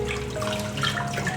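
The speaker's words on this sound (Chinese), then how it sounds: "这个梅菜取出来， 再洗一次" Preserved mustard greens (meicai) rinsed under running water in a kitchen sink, a continuous close splashing and trickling with a faint steady hum behind it.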